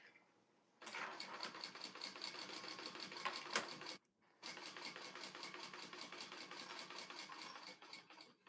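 Sewing machine stitching the side and bottom seams of a fabric bag, a steady mechanical whirr running in two long bursts with a brief pause between them, close and fairly loud.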